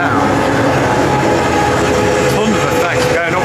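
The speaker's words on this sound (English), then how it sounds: "You join me on the ghost train." A ghost train ride car at Great Yarmouth Pleasure Beach rumbles steadily along its track, a loud continuous rolling drone with faint clattering throughout.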